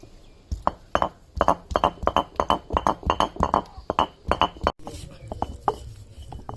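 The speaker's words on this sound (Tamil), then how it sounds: "மஞ்சள் அரைக்க போகிறோம்." Turmeric ground by hand in a village kitchen, with a steady run of sharp, close knocking and scraping strokes in quick rhythm, a brief pause, then slower scattered strokes.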